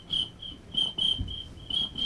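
Rhythmic high-pitched chirps repeat in short bursts, roughly every half second, sounding like crickets; a beatboxer's voice imitates the insect aboard a New York R subway train.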